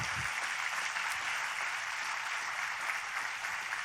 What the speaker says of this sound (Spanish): un aplauso a Dios por estas dos mujeres que me acompañan